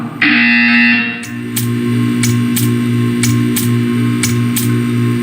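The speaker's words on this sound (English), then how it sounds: "You will hear a buzzer." A harsh electronic buzzer in the video game Portal 2 blares for about a second, followed by a low hum with a regular series of short clicking pulses.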